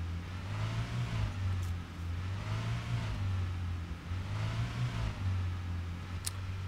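A car engine in the video game ARMA 3 drones steadily while the car is driven. The hum is loud and continuous and rises and falls slightly in pitch, and no voice is heard over it.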